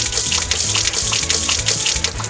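A watering can in a farming video game pours over freshly planted seeds, a loud, steady rushing splash of water lasting about two seconds.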